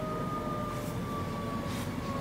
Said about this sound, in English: Is that an ambulance?